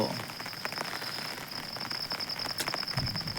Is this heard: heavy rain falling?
yes